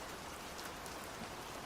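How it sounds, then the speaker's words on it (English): Steady rain in London falls as a dense, even patter with no breaks, loud and close, alone with no voices. "Watching London rain."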